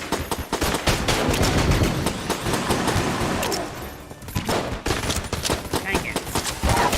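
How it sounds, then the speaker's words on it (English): Rapid rifle gunfire in the video game Enter the Gungeon, dense bursts of shots crackling close and loud, briefly easing midway before resuming, with faint game effects mixed in. "Oh, you had to break out the rifle."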